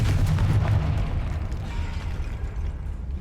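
An explosive Confringo spell cast in Hogwarts Legacy, a heavy booming blast up front that rolls into a sustained low rumble and gradually settles.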